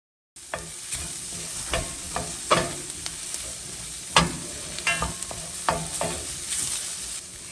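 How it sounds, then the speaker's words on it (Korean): Tofu and carrot stir-fried in a pan give a steady sizzle, with a spatula scraping and tossing in irregular clanks and swishes. "당근을 넣고는 잠깐 한 20초 정도 더 볶아주세요."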